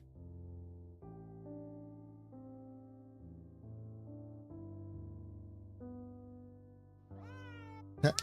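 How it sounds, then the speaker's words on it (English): A cat meows in a run of drawn-out, tonal calls that shift in pitch from one to the next, ending in a sharper, higher rising cry, close and clear with no talk. "Cat, cat, cat, cat, cat, cat, fish,"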